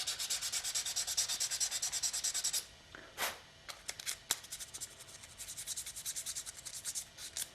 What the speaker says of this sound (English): First I'll scuff this up a bit with some sandpaper.